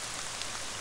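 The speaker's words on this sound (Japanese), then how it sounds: "あ、そうか、雨降りよったんだった" Steady rain falls as a dense, even hiss with no breaks, fairly faint and alone.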